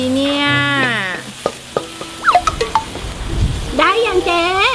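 Pork and holy basil are stir-fried in a pan, a steady sizzle with stirring underneath as high-pitched voices talk and exclaim over it.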